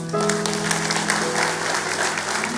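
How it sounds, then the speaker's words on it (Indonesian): A church congregation bursts into warm, sustained applause, a thick even wash of clapping lasting a few seconds, while a sustained tone, likely a keyboard, plays underneath. "Kasih tepuk tangan untuk Tuhan."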